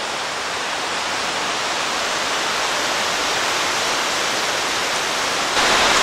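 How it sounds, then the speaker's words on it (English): Water rushes steadily down the cascades of Glade Creek after heavy rain, a loud, continuous broadband roar with no pauses or voices. "so the water's flowing nicely"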